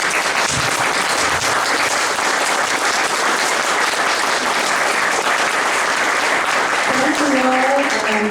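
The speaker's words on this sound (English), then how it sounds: "I'm sure that the applause is for all 3 of you" Audience applause for three sheriff candidates at an Erie County candidates' forum, steady dense clapping filling the room throughout, with a voice starting to speak faintly near the end.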